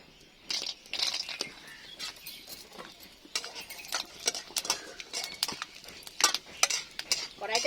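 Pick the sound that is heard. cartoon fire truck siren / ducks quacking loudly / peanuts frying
peanuts frying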